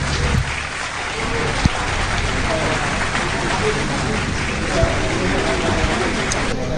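Steady broadband hiss of rain falling outdoors on a cold, wet day trip in Ayutthaya, continuous throughout, with someone talking over it and a few small knocks.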